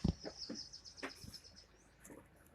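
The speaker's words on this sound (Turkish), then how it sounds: "Cici kuş geldi." A small pet budgerigar chirps faintly in a room, its thin, high tweets repeating softly over a quiet background with a few low thumps.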